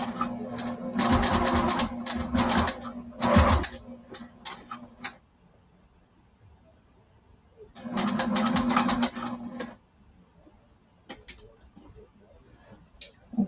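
A sewing machine stitches a duffle bag lining in two separate runs of rapid, close mechanical ticking, with quiet pauses and a few isolated clicks between them.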